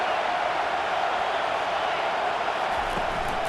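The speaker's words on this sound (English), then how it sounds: "This crowd going to try to make life miserable for these guys." A stadium crowd in the video game EA Sports College Football 25 keeps up a steady, dense roar throughout, with a low thump near the end.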